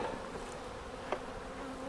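Honeybees from a beehive colony hum in a steady, dense buzz close by during colony consolidation work, with one brief louder knock partway through and no talking.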